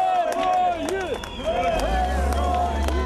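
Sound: crowd applauding and cheering returning soldiers

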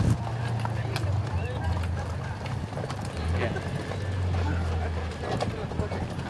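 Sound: horse hooves clip-clopping

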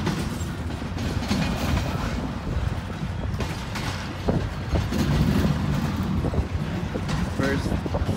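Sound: CP freight train passing

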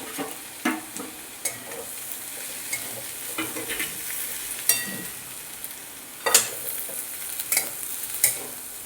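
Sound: ginger garlic paste frying with green chillies

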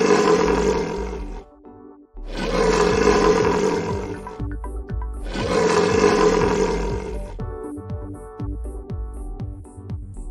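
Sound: lion roaring

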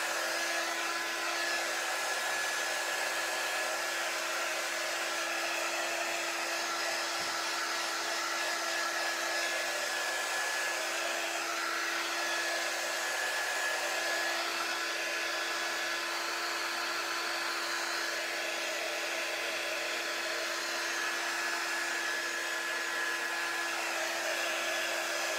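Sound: blow dryer drying chalk paint

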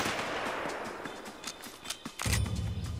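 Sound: gunfire in the video game A Way Out

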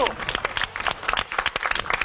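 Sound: studio audience clapping

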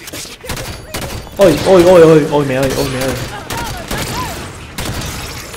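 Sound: gunfire in the video game Halo 5: Guardians

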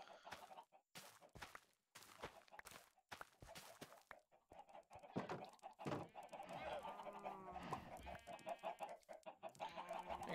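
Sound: chickens clucking in Minecraft video game

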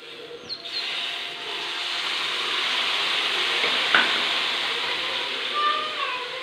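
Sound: tamarind water squeezed and poured into the dal curry pan

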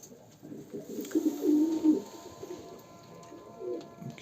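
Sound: racing homing pigeons cooing

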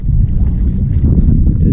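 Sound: wind blowing on lake

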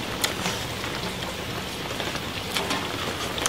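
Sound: rain falling

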